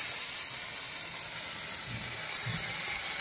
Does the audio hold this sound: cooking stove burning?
yes